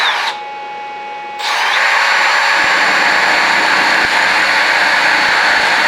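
A drill with a 0.204 inch bit bores into an Israeli-pattern FAL gas block at high speed: a loud, steady, high-pitched whine with a faint tick after the first moment, then it runs continuously to the end.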